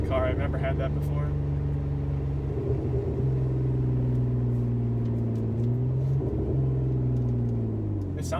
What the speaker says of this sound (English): The guy freaking cut the muffler off of it.